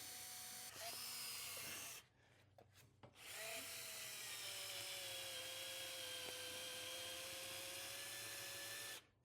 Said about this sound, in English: and we are just going to drill this